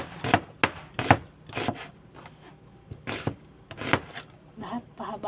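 A kitchen knife slices an onion lengthwise on a board for homemade kimchi, giving a series of crisp, irregular chops close up, spaced about half a second to a second apart, with a softer flurry of cuts at the end.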